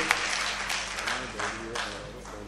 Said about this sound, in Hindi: तो एक बार अपने लिए और अपने शहर के लिए तालियां बजा के मुझे इजाजत दें